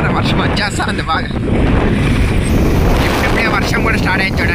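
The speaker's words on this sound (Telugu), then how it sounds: "భారీ గాలి వాన రెండు భారీగా వస్తాడే" Heavy wind and rain sweep through a town in Hindupur, bending the trees, a steady loud roar of gusts and rainfall with buffeting on the microphone throughout.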